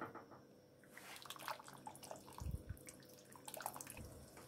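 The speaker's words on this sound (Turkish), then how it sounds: "Çorbam kaynamaya başladı." A pot of chicken foot soup comes to a boil with faint, bubbling liquid sounds, soft and low, plus a brief deeper gurgle near the middle.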